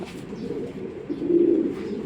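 Pigeons coo in a low, soft, throaty murmur, close by, swelling into a fuller rolling coo toward the end.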